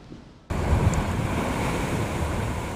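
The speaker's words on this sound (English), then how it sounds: "those waves down there are relentless" Relentless Lake Michigan surf pounds the shore during a lakeshore flood warning, a loud, continuous roar of breaking waves with wind buffeting the microphone, kicking in abruptly after a quieter half-second opening and holding steady with no voices.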